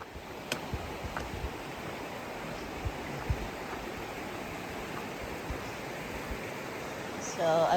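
Steady broadband rush of the Laurel Fork River flowing through Laurel Fork Gorge along the Appalachian Trail, a constant close water roar with no pauses, loud and even, and no speech over it.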